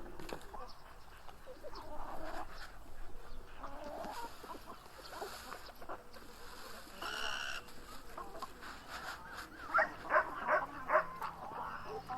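Dogs bark in short bursts amid clucking chickens, with a person talking over the scene and a few louder barks near the end.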